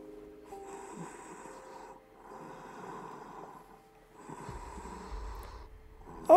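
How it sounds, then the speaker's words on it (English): Heavy, creepy breathing comes over a phone line in a fan-made Halloween video game: three slow, raspy breaths separated by pauses, then a low rumble and a sharp noise at the end. "Thanks for sharing your creepy heavy breathing."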